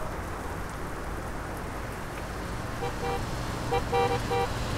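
AI truck horn sounding in Euro Truck Simulator 2 traffic, a few short tonal honks around the end over steady engine and road noise.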